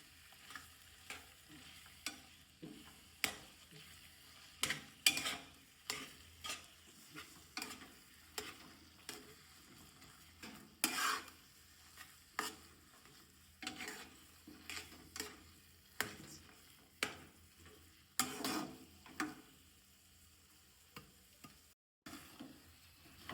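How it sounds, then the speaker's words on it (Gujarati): Grated potatoes stirred in a kadai with a spatula, a quiet close-up series of regular scraping strokes about once a second over a faint low sizzle, with no talking. "તો આપણે બટાકા છીણેલા એડ કરી દીધા છે કઢાઈમાં, અને કમ્પ્લીટલી સારી રીતે મિક્સ કરીશું."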